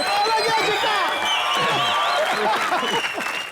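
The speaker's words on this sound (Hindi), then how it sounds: "जोरदार तालियां एक बार शाहरुख भाई के लिए।" A studio audience at a TV comedy show gives Shah Rukh Khan loud, sustained applause, with whoops and cheering riding over the dense clapping and crowd voices mixed in throughout.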